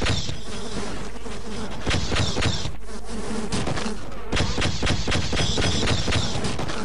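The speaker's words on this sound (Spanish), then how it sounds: "Duelo de abejas." Insect-like buzzing from the bees in Half-Life fills a busy game fight, a dense droning swarm layered with sharp bursts of gunfire and impacts.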